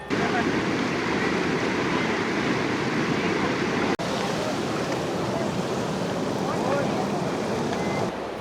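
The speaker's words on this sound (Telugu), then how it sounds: "ఆ నీళ్ల సౌండ్ ఒక ప్లెజెంట్ మ్యూజిక్ లాగా అనమాట" Bhagirathi river water near Gangotri in the Himalayas rushes in a loud, dense, continuous roar that is steady and close, with no clear break.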